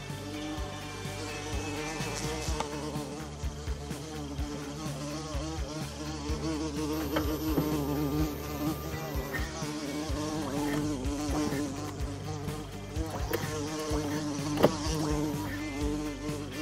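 Honey bees at a bee farm during late-summer honey harvest, a steady dense buzzing hum running throughout, fairly close, over a busy mix of other background noise with no clear talk.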